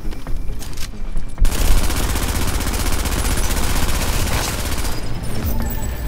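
Sustained blind-fire gunshots in a third-person shooter game, a rapid stream of loud shots that starts abruptly and keeps hammering for several seconds, fairly close and alone.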